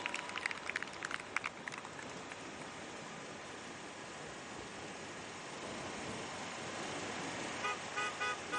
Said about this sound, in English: Why are sports directors honking and thinking that will encourage riders?